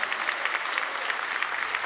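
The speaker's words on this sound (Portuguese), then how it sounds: "Aplauda bem forte a Jesus." A church congregation claps together at a worship service, a dense, steady wash of many hands that fills the short stretch with no voices on top.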